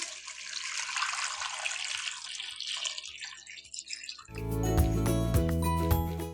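Water pours steadily into a pot of mutton paya and whole spices for several seconds, a broad splashing rush, then gives way abruptly to loud music.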